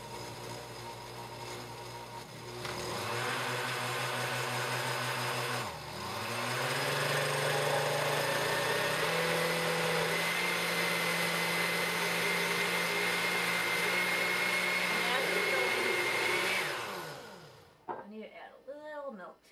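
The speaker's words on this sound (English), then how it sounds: "I'm going to put the lid on the blender, start this on low at first" A blender whirs steadily at close range, its motor pitch rising as the speed is turned up, then it winds down and stops.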